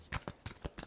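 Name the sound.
tarot cards being shuffled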